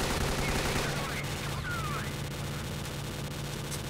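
Dense, continuous gunfire crackles through a S.T.A.L.K.E.R. Clear Sky battle, a steady mid-distance barrage with no pauses and a few brief whizzing streaks over the top.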